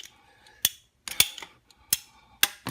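A hand ratchet cutter works through 1-inch PVC pipe, giving a few sharp, separate ratchet clicks and snaps spaced about half a second apart against a quiet background.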